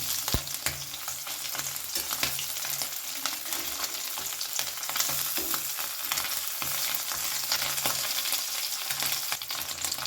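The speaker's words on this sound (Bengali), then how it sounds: "এই মাছগুলোকে আমি উল্টে দিচ্ছি আমি কিন্তু মাছগুলো এখানে খুব একটা কড়া করে ভাজলাম না" Small chela fish fry in hot oil in a pan with a steady, close crackling sizzle, and light stirring scrapes come in and out. The sizzle holds throughout with no talk.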